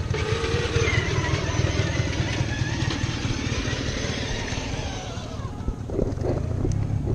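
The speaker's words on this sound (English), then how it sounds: "Dennis is testing out the Banshee right now." Banshee ATV engine running steadily and loud up close, with a dense continuous drone that thins out toward the end.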